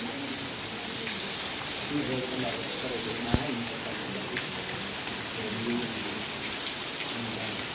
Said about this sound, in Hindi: बारिश तेज होती है